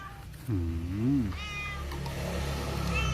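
A cat meows clearly and close by, with one long rising-and-falling meow followed by a shorter, higher call, set against steady low background hum.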